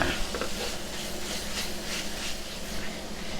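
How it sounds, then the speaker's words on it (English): Fresh parsley and basil stirred in a pan for Impossible Burger quesadillas: a faint, soft hissing sizzle with light scraping, steady and close, with no talking. "Give this a little stir a little bit."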